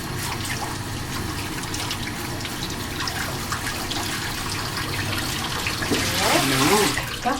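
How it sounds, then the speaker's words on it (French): Bathtub tap water runs steadily as a foot is rinsed during bathing care, a continuous close splashing stream that swells slightly near the end, with voices faintly underneath. "On rince le tout."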